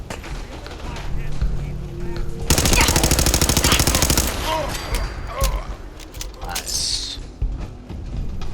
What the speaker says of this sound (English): Who else is shooting